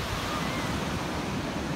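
Steady, dense wash of Pacific Ocean surf at the shoreline, a continuous broadband roar of breaking waves with some wind noise on the microphone and no voices.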